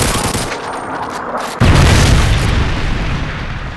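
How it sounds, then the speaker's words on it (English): A Predator missile explosion in Call of Duty MW3 hits with a sudden, loud, deep boom about a second and a half in, leaving a sustained rumbling roar over faint game noise and a thin high tone beforehand. "Friendly Predator missile inbound."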